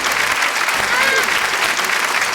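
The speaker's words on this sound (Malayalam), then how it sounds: "ഓക്കെ, ഒന്ന് കൈയടിച്ചേ" A room full of people claps together in a steady, dense burst of applause at a children's TV show, loud and close for a couple of seconds with no talking over it.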